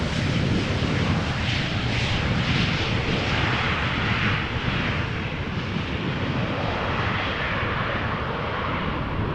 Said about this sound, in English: There's probably a turboprop flying above the clouds passing over Schiphol right now.